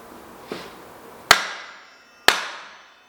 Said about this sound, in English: grab your hammer, and we're aiming to remove this bearing first from the swing arm. We need to hit the swing arm.